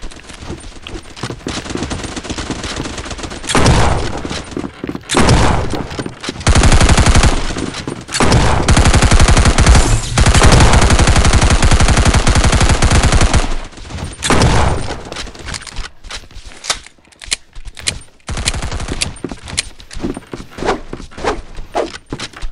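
Sustained automatic gunfire in a video game, with loud, dense bursts of rapid shots that come in waves and trail off into scattered single shots and clatter.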